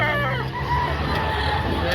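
A rooster crows, a three-year-old Sweater cross McLean gamefowl, its call rising over a busy market backdrop with voices talking nearby throughout.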